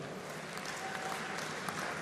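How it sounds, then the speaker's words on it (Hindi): Party workers at a BJP political rally in Jaipur clap steadily. The dense, continuous applause is fairly faint and distant, with no voices over it. "आप लोग ताली बजा रहे हो"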